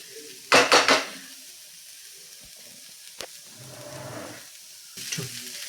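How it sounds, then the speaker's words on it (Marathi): Pea filling for matar karanji sautéed in a pan: several loud clattering scrapes of a spoon against the pan near the start, a sharp tap later, and a soft sizzle between, with more stirring clatter at the end. "हे असंच सुक सुक आपल्याला छानपैकी परतून घ्यायचं आहे साधारण तीन ते चार मिनटं"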